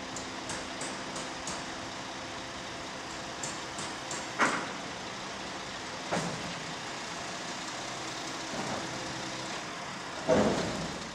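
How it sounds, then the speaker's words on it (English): A truck lowers an empty silo with a steady hydraulic drone broken by several sharp metallic clanks and knocks, heaviest near the middle and end, with no talk. "The silo is empty, so a truck has come to take the silo away."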